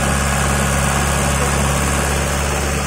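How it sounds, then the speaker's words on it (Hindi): A loud Kubota MU4501 tractor engine, running a thresher, idles right next to the microphone, a dense, steady rumble with constant mechanical vibration and no pauses. "इंजन के बिल्कुल बिल्कुल पास फोन ले गया खुद अंदाजा लगा लो कितनी आवाज़ है"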